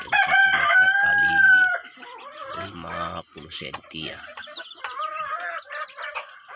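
A jungle fowl rooster in a small cage crows loudly and close, then clucks in short bursts while someone speaks over the later part.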